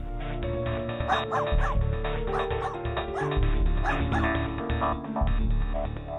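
A dog barks in repeated short yips and bow-wows, several quick bursts spaced over a few seconds, over a background of dramatic music.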